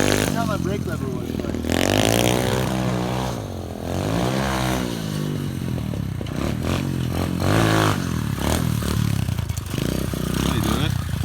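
SSR 125 pit bike engine buzzing and revving during wheelies, rising and falling under near-constant talking, with clattery mechanical noise throughout.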